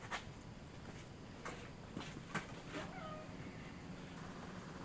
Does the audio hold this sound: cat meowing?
yes